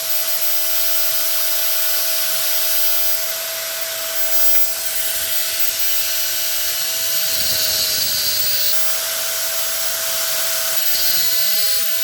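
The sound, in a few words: grinder grinding weld on armature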